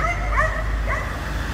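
A dog in a car trunk yips and barks in short whining bursts over a steady low rumble, fairly close and moderately loud.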